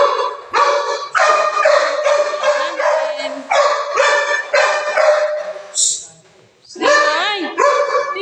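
Several dogs bark loudly and repeatedly close by in rapid overlapping bursts, with yips and a brief whimper between them.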